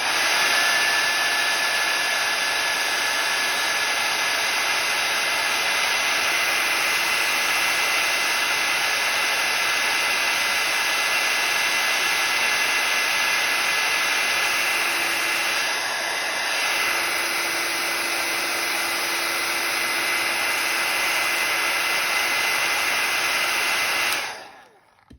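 A heat tool blowing on embossing powder over a craft charm, a loud, steady whirring hiss of hot air that runs without a break and cuts off abruptly at the end.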